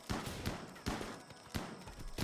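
Three sharp bursts of RimWorld gunfire at regular intervals, each a loud crack trailing into a noisy decay, with no talking.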